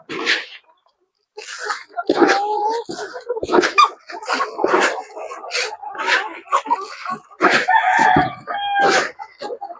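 Dekalb Brown chickens in a coop make a busy stream of short clucks, squawks and calls, close and overlapping, with brief pauses between bursts.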